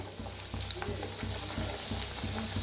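Chakli frying in hot oil make a soft, continuous bubbling sizzle with faint periodic stirring scrapes. The sound is close and quiet throughout.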